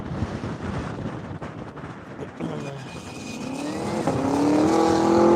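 A Legacy race car revs and pulls away in heavy wind gusts, rising engine and exhaust tones building louder toward the end under wind buffeting on the microphone, with people talking over it.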